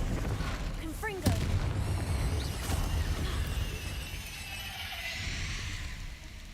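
Confringo blasting spell explodes in a Harry Potter video game, a loud booming burst with crackling spell effects and rumbling debris, amid continuous game sound and a voice casting spells over it.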